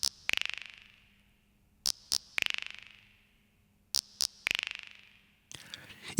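Arturia sampled drum machine quijada and güiro: pairs of quick scraped ticks followed by a long rattling decay, repeated three times in an even pattern, crisp and isolated.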